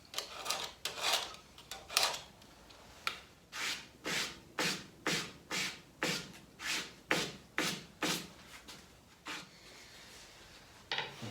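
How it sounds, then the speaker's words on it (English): A knife trimming excess edge banding on a cabinet piece in a series of light, evenly spaced scraping passes, about a dozen short rasping strokes close up with no talking. "The excess of that edge banding can simply be cut off with a knife. Making a few light passes."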